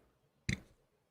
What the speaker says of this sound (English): Did you just burp?